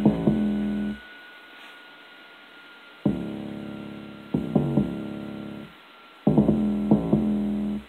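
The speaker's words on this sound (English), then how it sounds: "Now, with this 808, I'll solo this." An 808 bass soloed in a music mix plays loud, booming sustained notes in short groups with brief gaps between phrases, leaving only a faint background hum in the pauses.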